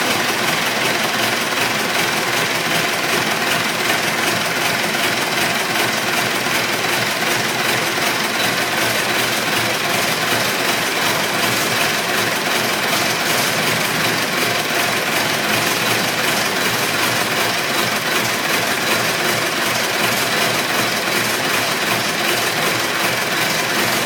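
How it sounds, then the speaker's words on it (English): Diesel engine starting and then running at idle, a steady, dense rumble with vibration that holds constant and loud throughout, close by with no speech. "Now I start the engine, and then as soon as I start the engine and it's running"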